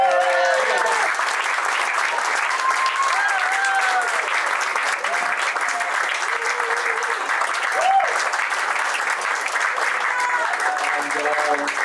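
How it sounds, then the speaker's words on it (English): Sustained applause from a concert audience, steady and fairly loud throughout, with scattered cheers and voices mixed into the clapping. "A big round of applause for her,"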